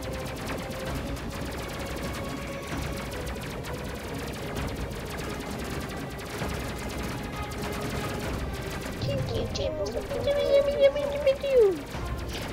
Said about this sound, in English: Laser guns.